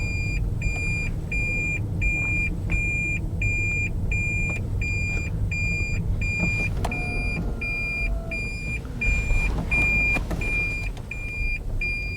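A car with an ABS warning-light fault is driven around the block to test its brakes. A steady engine and road rumble runs throughout, with a chain of regular high electronic beeps and a brief louder surge near the end. No one speaks.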